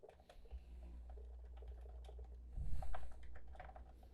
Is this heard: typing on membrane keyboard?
yes